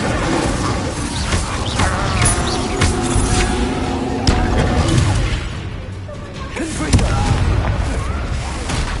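Magic spell blasts such as Bombarda and Confringo fire in a Hogwarts Legacy combat scene, with loud booming, crashing impacts layered over continuous battle noise and a voice calling out spells.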